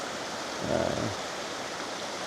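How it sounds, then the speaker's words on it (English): Waterfall on a woodland garden property in the Appalachian Mountains of North Carolina, a steady, faint broadband rush of falling water with a brief low swell near the start, no voices. "this has turned into one of the most spectacular waterfalls on the property"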